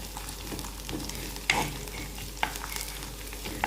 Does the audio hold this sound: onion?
yes